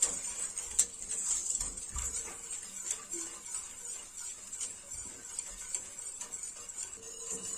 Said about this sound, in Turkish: Evet topaklanma olmasın diye sürekli karıştırıyoruz.